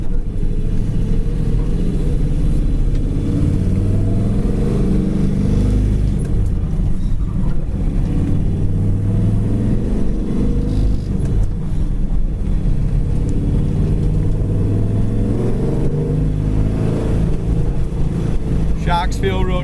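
A 1970 Chevy Chevelle Super Sport driving with a steady, loud, low exhaust rumble heard from inside, with an exhaust rattle at the back left; someone talks over the engine noise throughout.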